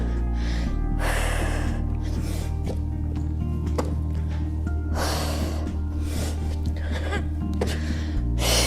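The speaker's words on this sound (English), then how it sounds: "You can tell I'm breathing heavily" Someone breathes hard during a beginner yoga routine, with loud, rhythmic gasping breaths close to the mic over a steady low hum.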